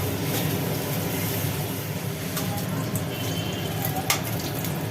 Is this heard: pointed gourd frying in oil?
yes